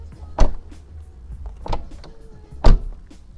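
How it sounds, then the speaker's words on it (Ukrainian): Three dull, solid thuds spaced apart, each a short low-heavy impact of a BMW 320d E46 car door shutting firmly, with quiet pauses in between. "послухайте, наскільки глухо закриваються двері"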